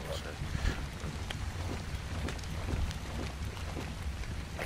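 Rain falls in a steady, broad wash of noise with gusty wind, continuous and fairly loud throughout, while people talk over it.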